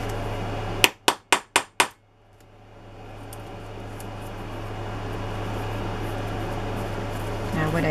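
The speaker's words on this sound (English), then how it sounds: "So now I'll set this part down into the part that extends up and pound again." Five quick, sharp hammer blows pounding a part into place on a handmade steampunk craft book, close and loud, followed by a steady room hum.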